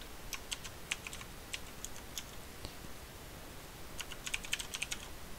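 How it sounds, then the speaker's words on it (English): Quiet bursts of typing on a computer keyboard while programming in Python: two clusters of quick key clicks, one near the start and another near the end, with a soft background hiss between them. "Then I'm going to type in print"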